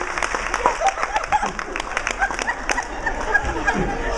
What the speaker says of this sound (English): Let's give them all a nice round of applause coming up here